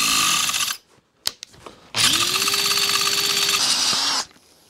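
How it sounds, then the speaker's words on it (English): Drill boring out a button head bolt on the rear fender of an Evo Sporty motorcycle with a 5/16 bit: two loud, steady whirring bursts with a rising motor pitch, separated by a short pause with a few clicks. "5/16 with an actual real drill bit, not a cheapo hardware store one"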